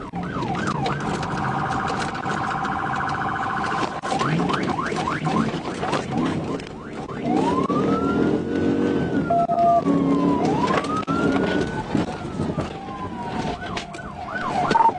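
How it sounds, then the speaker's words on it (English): A police patrol car's siren wails and yelps as a trooper begins a highway pursuit. The loud, rising and falling sweeps carry on throughout over road and engine noise. "Davis then activated his emergency lights and sirens, officially initiating a pursuit."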